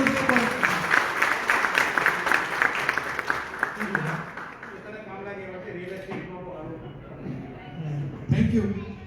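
Applause from the audience at a COVID warrior award ceremony, dense for about four seconds and then fading while someone speaks over the thinning claps.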